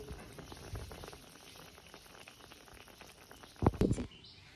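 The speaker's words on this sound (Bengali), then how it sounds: "আমাদের কচুরলতি রান্না কিন্তু মোটামুটি হয়ে এসেছে" Kochur loti, taro stolon curry, simmers on a clay stove with a soft steady bubbling close by, ending in a brief louder clatter near the close.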